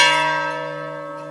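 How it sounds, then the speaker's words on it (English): A single ceremonial bell toll at a graduation ceremony, a loud, near, sustained ringing strike that slowly decays with no talk over it. "We proclaim our preparedness, and we toll the bell."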